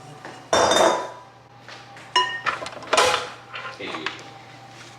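Flour mixture being added to gluten-free coffee cake batter in a bowl, with sharp clinks and scrapes of utensils against the bowl in irregular bursts, close and fairly loud.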